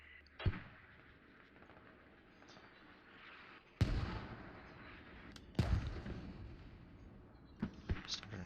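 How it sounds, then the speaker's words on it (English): Mortar rounds landing on the Mutaha map of a military shooter game, with several heavy, sharp booms spaced a few seconds apart against a low rumbling background. "Starting to get some mortars"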